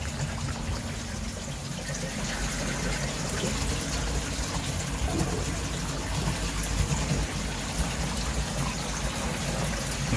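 Water flushes out of a koi tank's filter media, a continuous gushing, trickling flow that stays steady and fairly loud for about ten seconds.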